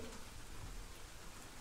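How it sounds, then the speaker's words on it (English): Steady rain pelting an old roof, a dense, even hiss of drops with no breaks, heard close but faint, with no voices. "I could hear the rain as it continued to pelt the archaic roof above me"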